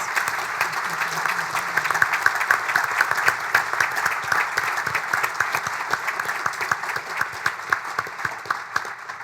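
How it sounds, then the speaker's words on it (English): Loud, sustained applause from a large crowd at a charity breakfast, dense clapping filling the whole stretch without letting up. "you all deserve a round of applause for all that you do for these organizations"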